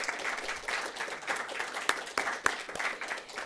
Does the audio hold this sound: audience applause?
yes